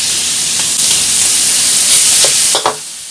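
Beef frying in a hot pan, a loud, steady sizzle and hiss with a few brief stirring clanks near the end, heard close with no voices.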